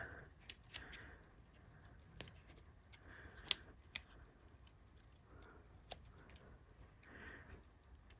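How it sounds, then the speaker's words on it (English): Scissors snip paper trimming the overhanging edge of a layered owl card, a series of faint, crisp cuts at irregular intervals in a quiet room. "I'm going to go ahead and come along with my scissors and trim the overhanging bit"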